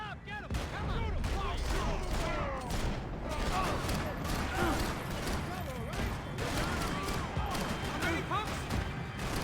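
Rapid gunfire rattles through a chaotic firefight in Max Payne 3, dense overlapping shots and impacts continuous throughout while people shout over it.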